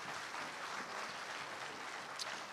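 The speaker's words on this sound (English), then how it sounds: "Give that a round of applause right there." An audience claps and cheers in a steady, dense wash of applause that holds at an even level throughout, with no voices standing out.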